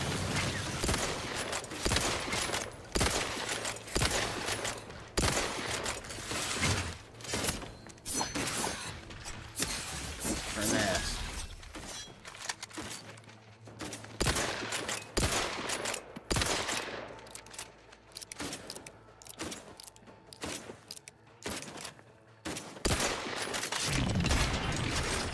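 Sustained gunfire in The Outer Worlds 2 video game, dense rapid bursts of shots repeating throughout with brief gaps, loud and close over a low background hum.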